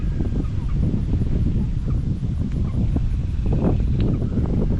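Hens and a rooster in a chicken tractor cluck and call with short, clustered squawks and a few higher cries, close by over a constant outdoor rumble.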